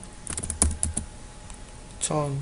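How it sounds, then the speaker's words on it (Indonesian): Keys clatter in quick irregular bursts as code is typed on a computer keyboard for a C++ program, close and crisp with brief pauses between strokes. "maka kita harus mengetik kode"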